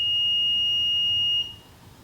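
A single sustained high-pitched electronic beep from a water flow alarm, loud and steady, cutting off abruptly near the end.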